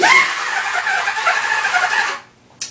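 A mouth-made imitation of a car revving, with a zipper-like sound for a squealing tire. About two seconds of a steady, loud, buzzing roar end suddenly, and a short sharp burst follows after a brief gap.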